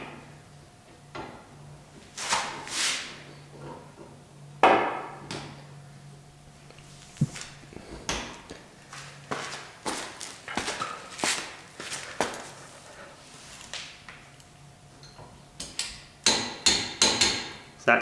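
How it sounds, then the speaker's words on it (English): Torque wrench clicking and tapping on the 17 mm caliper bracket bolts of an S2000 during a brake rotor and pad replacement, with scattered close metallic knocks and ratchet-like clicks at irregular intervals. "So let's get a torque wrench on here."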